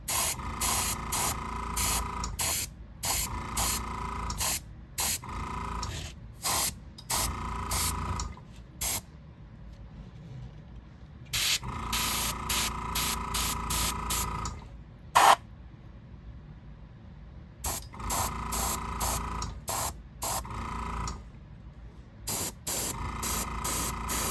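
Airbrush or spray can weathering paint onto a Rapido Dash 8 model train locomotive, hissing in short repeated bursts with brief pauses and a longer gap midway, close and steady.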